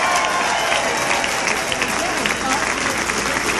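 At 2002 midterm election night coverage, a crowd gives a sustained, loud round of applause to the Washington staff, a dense, even clatter of many hands with no break.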